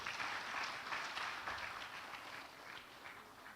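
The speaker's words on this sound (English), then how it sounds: "A round of applause for him, please." Audience applause at a university hackathon grand finale, a dense wash of many hands clapping steadily throughout, fairly loud and even, tapering slightly toward the end.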